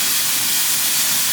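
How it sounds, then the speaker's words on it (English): Garlic dropped into hot olive oil in a pan gives a steady, close, loud broadband sizzle that holds without a break and has no talk over it. "my pan is pretty hot, so I'm gonna go ahead and add some olive oil to it. Garlic in."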